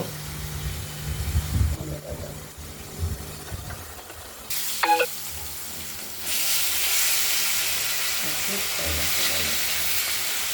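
Potato and pieces of rohu fish frying in hot oil give a steady sizzle that swells into a louder, denser hiss partway through, with a few clatters and faint voices in the background.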